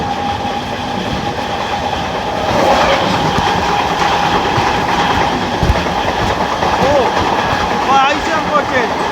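A Jalandhar–Ambala DMU train runs along the tracks with a steady rumbling roll and rhythmic wheel clatter, occasional faint squeals, and someone talking over it.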